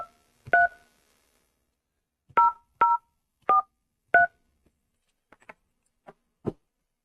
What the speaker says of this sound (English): The number you have dialed has not been recognized.